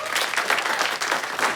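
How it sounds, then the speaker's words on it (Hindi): Audience applause breaks out on a comedy show stage, a dense wash of clapping that holds steady and close for the whole stretch, with a faint murmur of voices mixed in. "बार जोरदार तालियां।"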